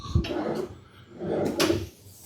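Hotel room drawers in a luxury Doha suite sliding open and shut, two clear wooden thuds and rolls about a second apart, close and fairly loud, with faint rustling between.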